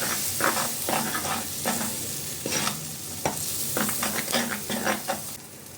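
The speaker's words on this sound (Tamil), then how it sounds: "இதையுமே நல்லா எண்ணெயில் அப்படியே வதக்கி விட்டுறலாம்" Steady sizzling and crackling of ground pirandai (veldt grape) and masala frying in hot oil, with repeated scraping strokes as it is stirred in the pan.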